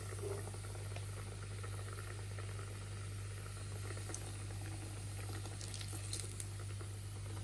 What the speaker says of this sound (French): je vais pouvoir mettre mes Kievski Katlet pour dorer